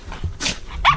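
A dog barks twice in quick succession, short sharp yaps close by over a low rumbling background.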